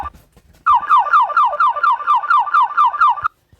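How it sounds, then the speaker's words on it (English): Antonov AN-142 stall alarm, a loud rapid warbling electronic tone repeating in quick even pulses for a few seconds before stopping abruptly. "so I'll know what the stall alarms sound like"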